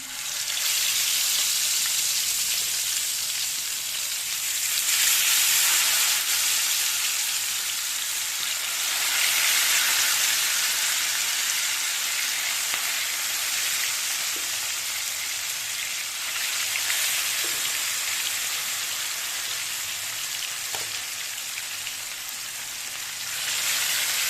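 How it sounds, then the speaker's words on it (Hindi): Fish frying in a pan over a medium flame, a continuous loud crackling sizzle that swells and eases slightly, with occasional faint pops and no speech. "बहुत ज़्यादा हाई फ्लेम पे हमने इसको फ्राई नहीं करना"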